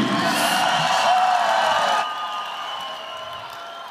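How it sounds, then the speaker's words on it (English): An arena crowd cheers and applauds fighters after a bout, a loud roar of clapping and whoops that drops abruptly halfway, then continues as a softer, sustained crowd murmur. "a round of applause for both of these athletes, please."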